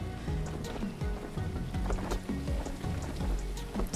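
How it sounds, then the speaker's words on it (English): Rain falls inside a video game cave, a dense patter of drops over a rhythmic, repeating low tone that carries steadily throughout. "anyone else notice it's raining in here?"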